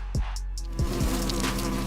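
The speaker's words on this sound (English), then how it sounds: "An Asian giant hornet." An Asian giant hornet buzzes in steady insect drone, with short louder passes close by over a continuous low hum.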